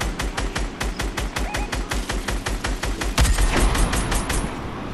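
Rapid bursts of gunfire in a shooter video game ring out in a steady rhythm of sharp, evenly spaced shots, close and loud, with a heavier blast joining near the end.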